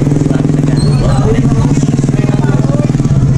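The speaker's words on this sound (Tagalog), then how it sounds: "Ayan yung mga motor pa." Motorbike engines drone loudly and steadily close by, with people chattering in the background.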